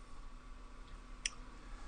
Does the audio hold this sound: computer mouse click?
yes